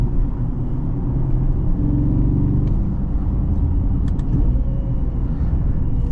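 A 2013 Porsche Panamera GTS engine rumbles low and steady, with a few faint crackling pops from the exhaust near the middle.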